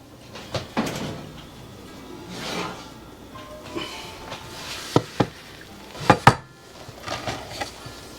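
Red beef enchilada casserole lifted out of a home oven: a scattered series of clicks, clanks and rack or door knocks, moderately near and fairly quiet, with no talk.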